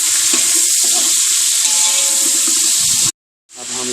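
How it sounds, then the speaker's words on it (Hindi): Tomatoes tipped into a pan of frying chicken biryani masala with ginger and green chilli, giving a loud, bright, continuous sizzle with crackling pops that cuts out briefly, then resumes. "अब हम डालेंगे इसके अंदर टमाटर।"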